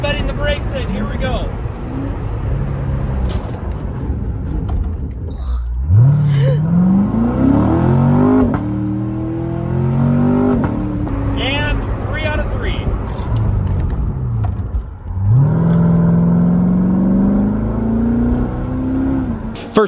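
A Chevrolet C7 Corvette Grand Sport accelerates hard twice, its engine climbing in pitch each time before dropping off as the car brakes to bed in the brakes. Heard from the cabin with steady road noise and some talk.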